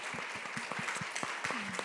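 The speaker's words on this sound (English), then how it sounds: "Can we give a huge round of applause for Jeanne?" Audience applause for a speaker at a talk on wool, a steady patter of many hands clapping with a faint voice or tone briefly audible beneath it.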